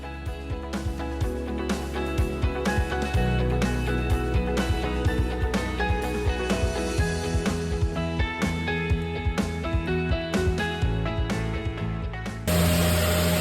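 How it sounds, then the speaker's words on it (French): Electric sander run over wooden ceiling beams during a kitchen renovation, a loud continuous motor whine with rhythmic scraping strokes, close and steady throughout. "est en train d'essayer la ponceuse"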